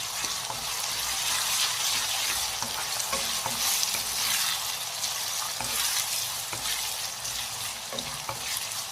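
Potato fry with turmeric stirred in a pan, a steady close sizzle of frying with scraping stir strokes running throughout, no voices.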